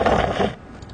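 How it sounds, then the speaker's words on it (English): Golf flag flapping in a video game: a brief, dense fluttering rustle for about half a second that then drops to quiet with faint trailing ticks. "The flag flapping,"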